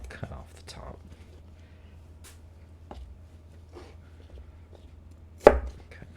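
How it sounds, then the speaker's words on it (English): A knife dicing vegetables on a cutting board for vegetarian lasagna, scattered crisp chops at an uneven pace, quiet and close, ending with one louder sharp chop, with faint whispered speech in places. "and cut. Just dicing."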